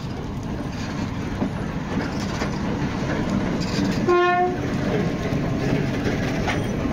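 A freight train rumbles past steadily on a Russian railway with rolling wheel noise, and a brief horn-like tone sounds midway, loud and fairly near.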